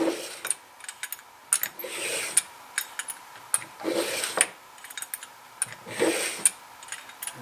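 A steel broadhead drawn toward the body across a KME sharpening stone, giving soft separated rasping strokes with small clicks between them, close and fairly quiet.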